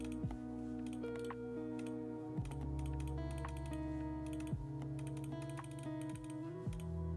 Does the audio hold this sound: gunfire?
no